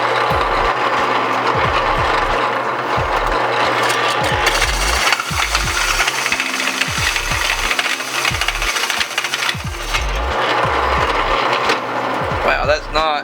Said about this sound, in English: So I think we're going to start with the stepper bit